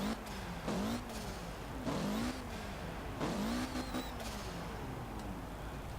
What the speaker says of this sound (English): There's a lot of turbo flutter.